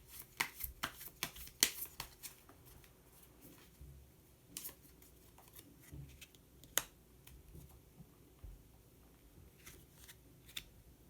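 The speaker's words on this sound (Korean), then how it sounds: "마지막으로 색깔로 알아보는 컬러 카드 한 장 더 뽑아보도록 하겠습니다" A deck of colour cards is shuffled and drawn by hand: a quick run of crisp riffling snaps and flicks at the start, followed by sparser soft card slides and taps, close and quiet with no voices.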